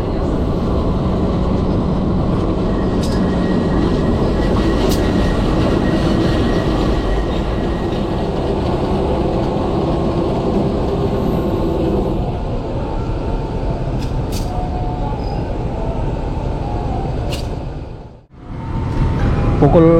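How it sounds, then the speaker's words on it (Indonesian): The Bandung Raya passenger train rolls into Purwakarta station at night, a loud steady rumble of wheels and carriage noise heard from inside, easing and slowing, with a brief dip before the noise returns. "sesaat lagi pengantaran Bandung Raya akan tiba di stasiun tujuan akhir stasiun Purwakarta"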